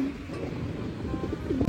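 Soft pigeon cooing repeating low and close over a steady windy background rumble, no talking.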